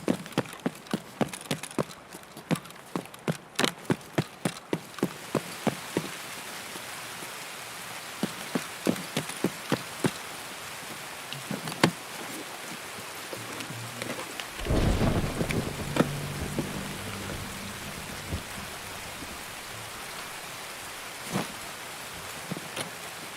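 Rain in the video game Escape from Tarkov keeps up a constant hiss with many sharp clicks and taps, while a deep rumble of thunder swells midway and then fades.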